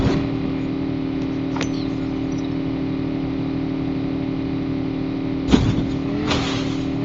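A vehicle engine in the Call of Duty Mobile video game hums in a steady drone, with a couple of short sharp bursts of game noise layered over it.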